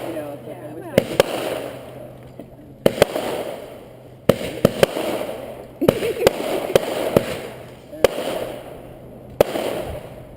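Fireworks burst in a series of sharp booms and crackles, about six loud explosions spaced a second or two apart, each trailing into a rumbling decay, with spectators talking and exclaiming between the blasts.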